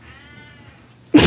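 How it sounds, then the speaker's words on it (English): A pet cat lets out a single loud, close meow at the very end of an otherwise quiet room. "that's why I'm meowing"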